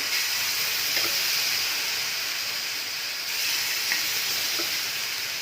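Rava dosa batter sizzles on a hot tava with oil, a soft, steady frying hiss with faint crackles, fairly quiet and continuous with no talking.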